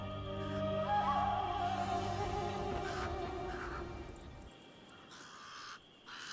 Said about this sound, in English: The pied crows are getting worked up about something.